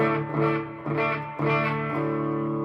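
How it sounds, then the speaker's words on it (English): Sustained electric guitar chords ringing out in three strums, each note washed with a lingering, spacious reverb tail. "Actually, so I got just reverb right now."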